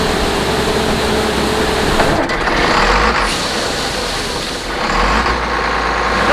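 A tractor running at 1,000 RPM PTO speed drives an auger, a loud, dense, continuous engine drone and grinding hum close by, with slight surges partway through.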